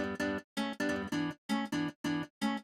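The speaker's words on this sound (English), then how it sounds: "So first thing I did with that guitar was add a little bit of delay, and that is going to add some stereo width. This is called the Haas effect." Rhythmic guitar chords with a fast stereo ping-pong delay widening the sound, as in a summer hit production, played as eight short clean stabs in a steady pattern with brief gaps and no talking.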